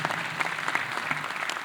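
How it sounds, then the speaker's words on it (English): An audience at a police academy graduation ceremony claps in a steady, dense patter of applause from a crowd indoors, fairly distant and moderately loud. "Please applaud. Give them applause"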